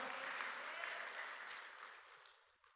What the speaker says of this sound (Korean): 힘차게 박수합시다